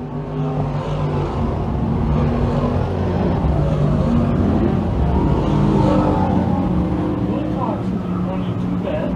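Race cars running laps in a limited sportsman feature, a steady loud engine roar holding throughout with a commentator's voice layered over it.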